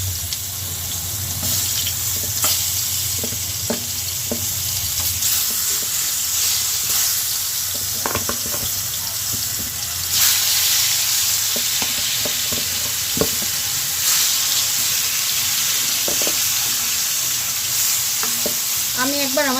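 Sweet pumpkin slices fry in hot oil with a continuous loud sizzle, punctuated by clinks and scrapes of stirring and turning in the pan.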